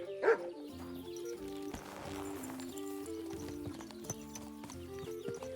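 Horse hooves clip-clopping at a walk in Kingdom Come Deliverance 2, a soft steady rhythm under quiet medieval game music, with a brief dog bark near the start.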